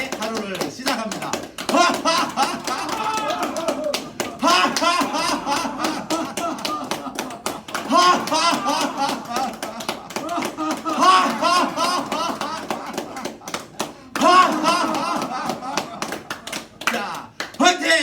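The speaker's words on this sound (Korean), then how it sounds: "잘 하실 수 있는 분들은 박수 치시죠" An audience claps along at a lively morning lifestyle-coaching session, with brisk, dense hand claps running throughout amid cheering voices and talk.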